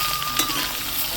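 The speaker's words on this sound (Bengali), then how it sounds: "ওলকপিটাকেও ভালো করে নেড়ে নেবো।" Kohlrabi stirred and frying in a pan for a village-style Bengali curry, a steady close sizzle with a light scrape of stirring and one brief clink, no voices.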